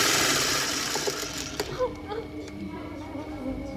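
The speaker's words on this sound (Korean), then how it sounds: "즐거운 재봉틀 시간." A sewing machine runs with a dense, rapid mechanical whir in a leathercraft setting, then stops, leaving quieter clicks and room noise.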